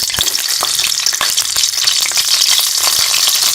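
Stuffed tomatoes frying in hot ghee in a kadai, a loud continuous close sizzle with scattered pops and crackles throughout.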